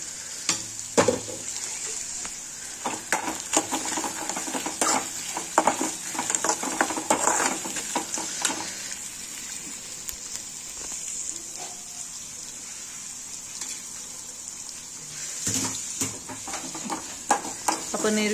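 Onion fries in a pan with a bright continuous sizzle while a spoon stirs it in irregular scraping bursts, and a voice talks briefly at times.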